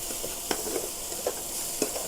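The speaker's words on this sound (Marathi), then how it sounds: "किती प्रॉपर फोडणी बसली मग विचार करा" A soft, continuous sizzle of spices tempering in oil for khichdi, with a few light clicks of stirring, close and fairly quiet, no voices.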